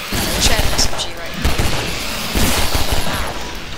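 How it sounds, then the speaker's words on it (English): Big exploding flechettes fired by an enemy in the video game Half-Life 2 Episode 2: a dense run of loud, close bursts and cracks that rise and fall over a steady roar of combat noise. "it shoots these big exploding fletchets at you"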